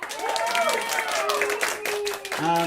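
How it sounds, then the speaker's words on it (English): Audience at an all-ages drag show at Outer Space in Arcata claps and cheers in scattered bursts, mostly beneath a voice talking loudly over the crowd. "let's hear some claps for that"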